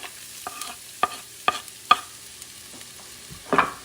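Fresh chopped garlic frying in a pan for a pork and pumpkin stew is stirred with a utensil, producing several distinct scraping clacks spaced about half a second apart over a soft, steady sizzle.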